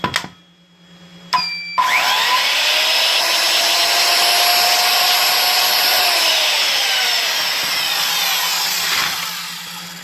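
An electric saw powered by a converted EV battery pack clicks, starts up, and runs loud and steady with a high whine for several seconds before spinning down.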